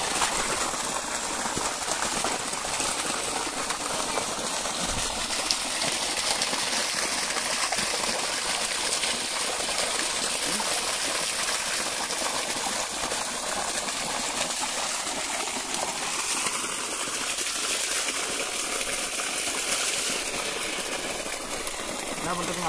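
Water from a pump pours steadily into a coconut grove, a continuous broadband rush and splash heard close by throughout, with a faint mechanical hum beneath it.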